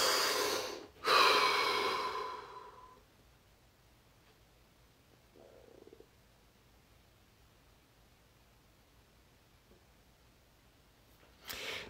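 A single deep breath, a loud airy inhale and exhale lasting a couple of seconds near the start, then near silence with a faint rustle and a soft breath returning at the end.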